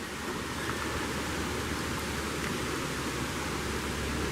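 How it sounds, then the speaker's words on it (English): Steady, even hiss of heavy rainfall from a tropical storm in Georgia, constant and unbroken, with no voices. "And if you hear that rain"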